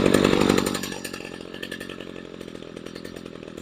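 Small two-stroke engine idling after a carburetor mixture adjustment, starting with a louder rev that drops into a steady, rough, sputtering idle close by.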